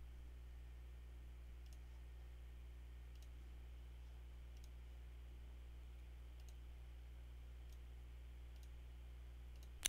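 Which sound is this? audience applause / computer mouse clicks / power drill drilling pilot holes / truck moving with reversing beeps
computer mouse clicks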